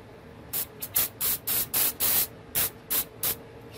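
WD-40 lubricant sprays from an aerosol can in a shop in a rapid series of about ten short, close hissing bursts, each under half a second and separated by brief pauses.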